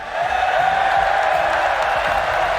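A large arena crowd at a Rocket League World Championship semi-final between G2 Esports and FaZe Clan roars and cheers in a dense, sustained wash of noise, loud and reverberant throughout.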